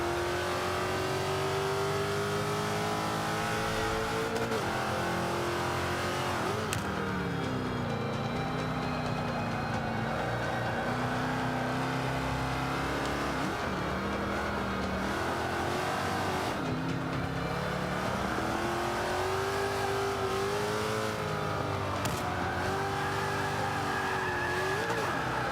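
A Range Rover engine in the Forza 5 racing game on the Indy GP track revs steadily and continuously, pitch rising and dropping through gear shifts, with brief tire squeal, loud and alone for the whole stretch.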